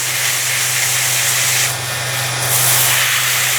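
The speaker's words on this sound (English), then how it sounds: "any broken fibres, just use some shavings just to polish it up." A turned wooden bowl spins on a lathe while a handful of wood shavings is pressed against it for polishing, giving a loud, steady rushing hiss over a low motor hum, close up and unbroken.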